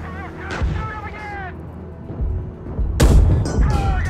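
A tank fires HEAT rounds in the video game Gunner HEAT PC, with two heavy cannon blasts, the second louder and longer, each trailing a rumbling echo, while a voice speaks between the shots.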